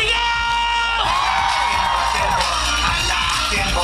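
A school crowd at a town festival shouts and cheers loudly and continuously, with whoops and yells rising after a sharp swell, while a voice on a loudspeaker calls out over the noise.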